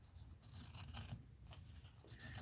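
Scissors snip through a piece of mixed-media art journal material, giving a few quiet, close crisp cuts with no talking.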